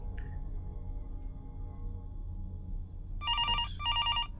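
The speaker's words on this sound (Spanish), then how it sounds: "Y el teléfono de repente sirve." An old telephone rings in the horror video game Fears to Fathom, two bright electronic ring bursts near the end following a steady chirp of crickets and a low background hum; no one speaks.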